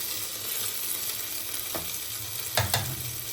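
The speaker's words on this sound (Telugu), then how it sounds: "ఇది మంచిగా వేగనిద్దాము" Ginger garlic paste and turmeric sizzle in hot oil for a fish curry, a steady close frying hiss broken by two or three brief stirring scrapes, with no voices.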